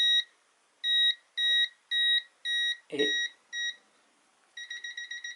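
A Mustool X3 clamp meter's NCV voltage detector gives a series of sharp, evenly spaced electronic beeps near a live wire, then a quicker run of short beeps at the end, with a brief murmur of speech partway through.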